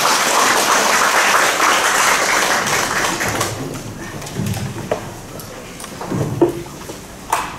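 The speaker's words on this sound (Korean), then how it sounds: "큰 박수를 모시겠습니다" Audience applause at a Korean Catholic symposium welcomes a speaker flown in from Jeju, a dense steady clatter for about three seconds that thins into scattered claps and tapers off.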